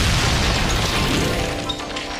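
A loud, rumbling blast fills the whole clip, a dense roar of debris and noise that slowly fades, with no voices.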